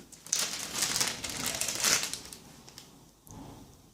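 Close crinkling and rustling of a roll of electrical tape being handled and turned over, a few seconds of scratchy plastic-like noise that fades out.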